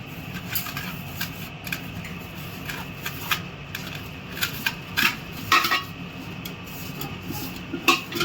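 Metal cooking pot for biryani being handled and greased with ghee, giving scattered clinks and scraping knocks of utensil on metal, close and moderately loud, with no talking.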